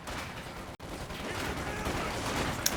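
G43 rifle gunfire from Panzer Grenadiers cutting down conscripts in the strategy game Company of Heroes 2, a dense, steady crackle of distant battle shots with a faint sharp hit near the end.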